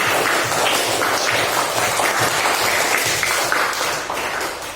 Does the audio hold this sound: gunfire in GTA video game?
no